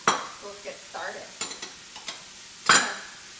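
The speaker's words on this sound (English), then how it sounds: "Go ahead and mix these together." Cheddar, mozzarella and cream cheese being stirred together in a bowl: a string of short, close scraping and knocking strokes of a utensil, irregular in rhythm, ending with a louder clatter.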